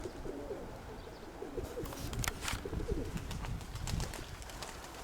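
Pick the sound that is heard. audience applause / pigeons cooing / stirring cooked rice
pigeons cooing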